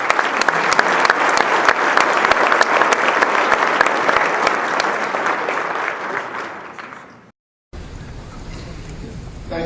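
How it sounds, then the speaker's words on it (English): A luncheon crowd applauds the mayor with sustained, dense clapping that fades near the end and cuts out briefly before ambient room noise returns. "a round of applause for the mayor."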